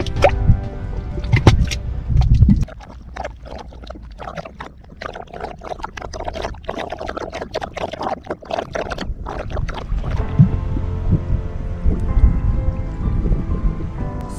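Mud pots near the Salton Sea bubbling and plopping, a steady run of irregular wet pops and gurgles close by, with no talk over them.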